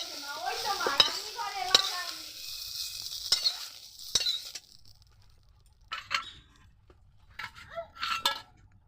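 Drumsticks frying in oil in a pan, a loud sizzle with sharp utensil scrapes and clinks as the pieces are stirred, then quieter with scattered lifting taps and clatter.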